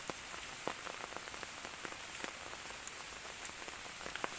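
Steady rain falls on a surface, a continuous hiss with scattered sharp drop ticks, heard alone at moderate level.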